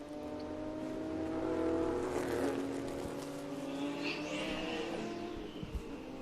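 A race car at Virginia International Raceway during a classic and muscle car race weekend, its engine droning steadily and then sweeping past with a rising and falling pitch, heard from trackside without talk.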